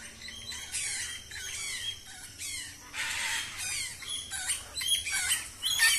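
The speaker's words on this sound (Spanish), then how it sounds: "Un par de guacamayas rojas con amarillo, verde y azul." A pair of red, yellow, green and blue macaws calls in the wild, giving harsh, raspy squawks in repeated bursts that rise and fall in loudness, with some calls overlapping against a low background hum.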